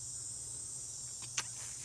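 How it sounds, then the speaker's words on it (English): Cicadas drone steadily in the outdoor background, a faint continuous high buzz with a brief sharper click near the end and a low hum underneath. "right now the cicadas are making their own noise"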